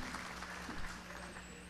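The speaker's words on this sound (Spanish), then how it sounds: "le damos un fuerte aplauso por favor a Nadia Esquén" Audience applause welcoming panelist Nadia Esquén at an annual public-sector executives' meeting: a steady, even wash of clapping from a crowd, moderately faint, with no voices over it.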